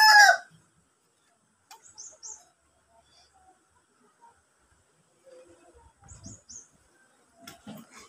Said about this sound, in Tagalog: Mga pato. Tsaka manok.